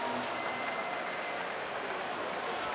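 Darts crowd of about 5,000 cheering and applauding at the 2022 Players Championship Finals, a dense, steady roar of clapping and shouts filling the arena without a break.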